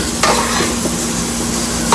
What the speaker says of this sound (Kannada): ಇವಾಗ ನಮ್ಮ ಈರುಳ್ಳಿ ಟೊಮಾಟೊ ಎಲ್ಲ ಬೆಂದಿ ಎಣ್ಣೆ ಮೇಲೆ ಬಂದಿದೆ. ಇವಾಗ ಒಂದ್ಸಲ ಚೆನ್ನಾಗಿ ಕೈ ಆಡಿಸ್ಕೊಂಡು